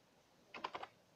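A short burst of about four quick keystrokes on a computer keyboard, close and fairly soft, entering a Windows command in a quiet room.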